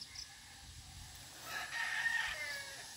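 A broodcock rooster at a gamefarm crows once in the middle distance, a drawn-out call rising and falling over quiet farm background with a faint earlier cluck.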